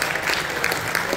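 A church audience at a Father's Day gathering applauds, with a short burst of steady, moderately loud clapping from many hands and no talk over it.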